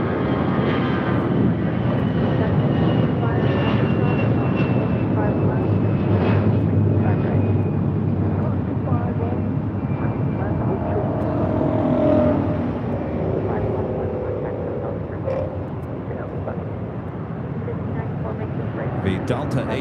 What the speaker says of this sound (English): The Delta A330 at NEO making a left-hand turn on to Kilo.